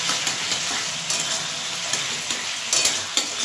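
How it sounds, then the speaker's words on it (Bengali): Ginger paste and spices sautéing in a hot pan for a fish curry with cauliflower and potato, a steady close sizzle and fry with occasional stirring scrapes throughout, no voices. "আদাটা দিয়ে আবার 1 মিনিট মতো কষিয়ে নেব"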